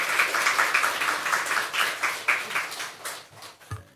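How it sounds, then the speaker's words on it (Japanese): A church congregation at a joint worship service claps in thanks, with rhythmic, fairly close clapping in pulsing waves that slows and breaks apart near the end, ending with a single low thump. "感謝の拍手を捧げましょう。"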